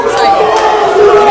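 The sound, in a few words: crowd booing a basketball player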